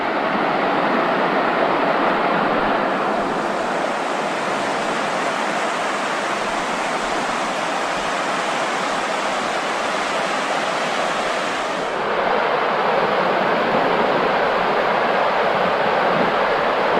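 Steady broadband rush of the Ausable River flowing past a roadside fishing spot near Wilmington Notch, continuous and fairly loud with no voices, the tone dipping slightly midway before the full roar returns.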